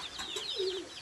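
A male Teddy-breed pigeon gives a short, soft coo, with brief higher chirping notes, close by and alone.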